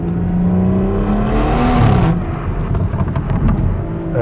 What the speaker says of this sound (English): And you get the cracks and the pops.